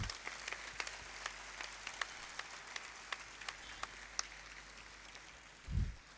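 Sparse, scattered handclaps from an audience at a public anniversary event welcoming the RSS chief Mohan Bhagwat, faint and distant, with isolated claps spread across the stretch and a low thump near the end.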